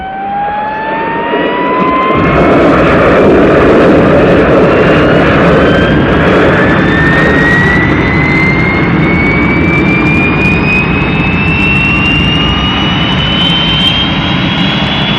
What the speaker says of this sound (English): I'm standing by for takeoff.